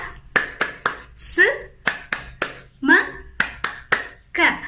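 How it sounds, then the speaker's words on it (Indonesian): Rhythmic hand clapping from a children's tepuk semangka clap routine: sharp, close claps in steady patterned groups, with short chanted voice phrases between the clap sets. "pagi kali ini kita ikuti gerakan tepuk semangka dulu ya"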